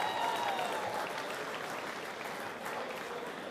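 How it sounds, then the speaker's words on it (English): Audience applause at the 2023 Macarthur Football Association M-League awards night, a steady broad clapping from an indoor crowd that holds level for several seconds without talk. "Please, a round of applause for the Taipans reserve grade."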